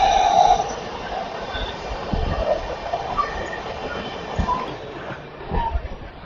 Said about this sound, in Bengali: বন্ধুরা 7:03 আমাদের পাঁচকুড়া দীঘা লোকাল ছাড়লো